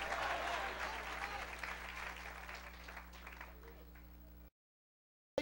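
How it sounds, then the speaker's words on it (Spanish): Applause from a church congregation at an evangelistic service with an evangelist preaching, a dense wash of clapping over a steady low hum that runs about four and a half seconds, fading slightly before cutting out. "Si le va a dar un aplauso, déselo bien dado"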